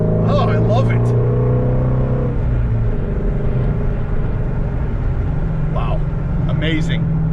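Shelby GT350 Mustang with a flat-plane-crank V8 roars loudly from inside the cabin, its exhaust note rising and shifting through revs while a person talks over it.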